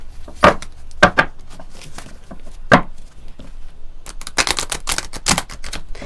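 Sacred spirit reading cards being shuffled and handled, giving sharp, close papery slaps and riffles. Several isolated snaps come first, then a quick cluster of shuffling bursts, with no voices.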